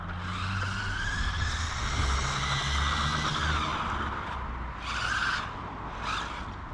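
A cheap brushless RC car accelerates hard on throttle, giving a high whining motor pitch that rises and sweeps, with squealing tyres and short renewed bursts of revving toward the end.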